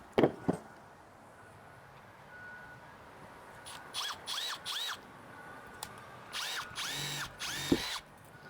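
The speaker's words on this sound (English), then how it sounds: "So I like to start with a 5mm drill bit" A power drill bores a pilot hole with a 5mm bit while a Sprinter van tire carrier ladder is installed, several short whining bursts starting and stopping, loud and close, with a few sharp clicks between them and no talk.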